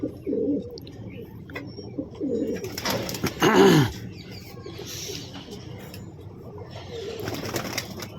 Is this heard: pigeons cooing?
yes